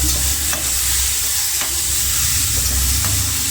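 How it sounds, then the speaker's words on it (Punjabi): Spices for paneer bhurji stirred and roasting in a pan, a loud, steady close sizzle that never drops, with a few soft scrapes of a spoon and no talking. "ਹੁਣ ਆਪਾਂ ਇਹਨੂੰ ਚੰਗੀ ਤਰ੍ਹਾਂ ਮਿਕਸ ਕਰਕੇ ਮਸਾਲੇ ਵਧੀਆ ਤਰੀਕੇ ਨਾਲ ਭੁੰਨ ਹੋ ਗਏ"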